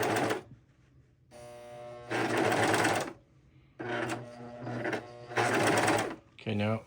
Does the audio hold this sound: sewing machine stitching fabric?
yes